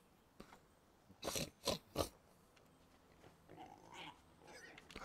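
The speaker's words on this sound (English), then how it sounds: "Hogs are oinking." Quiet Jade Empire game ambience broken by three short grunting hog oinks in quick succession, followed by softer snuffling and murmurs.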